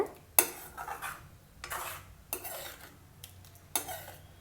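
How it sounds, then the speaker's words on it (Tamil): A metal spoon scrapes and clinks against a pan while tamarind water is stirred into garlic kuzhambu, giving a few sharp taps and soft scraping swirls, quiet and close, with no voices. "ஆட் பண்ணிவிட்டு நல்லா மிக்ஸ் பண்ணிக்கோங்க"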